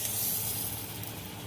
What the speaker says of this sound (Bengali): আরও 1 চামচ তেল দিয়ে আমি সব সবজিগুলো সব ভেজে নিচ্ছি।